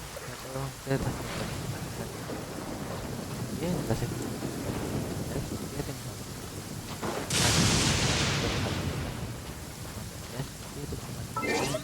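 Rain and thunder in the video game Genshin Impact, a steady hiss of rainfall with a loud thunder crack rolling in partway through, while a person speaks briefly.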